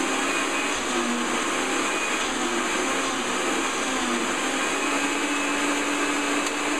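A blender runs on high on its liquefy setting, blending avocado chocolate vanilla mousse. It gives a steady, dense, loud whirring roar that holds without a break and has no talking over it.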